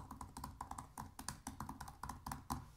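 Keys clatter quickly and steadily on a 2016 MacBook Pro laptop keyboard, a close, crisp run of clicky taps with no voices.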